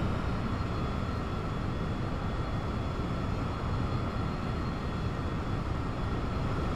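Boeing 737 airliner descending in the X-Plane 11 flight simulator, a steady, even cabin-style engine drone with broad hiss and a faint tonal whine, constant throughout and alone.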